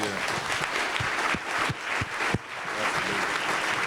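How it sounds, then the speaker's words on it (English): An audience at a public library event with Dennis Rodman applauds in a steady, dense wash of clapping that sustains throughout, with a few sharper individual claps standing out. Voices can be heard within the crowd. "give him a round of applause for that"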